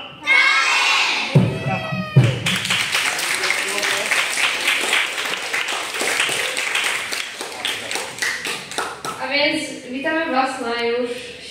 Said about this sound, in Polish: wielkie brawa dla was za przybycie